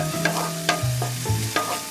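Minced shallot and garlic fry in a spoonful of oil in a pot, a steady close sizzle with light clinks and scrapes of stirring throughout, no voices.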